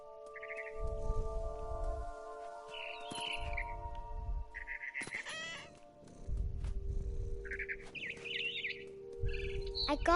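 Short bird chirps and tweets from the video game What Remains of Edith Finch come in repeated bursts, set over a sustained tonal drone and low rumbling thuds, fairly faint overall.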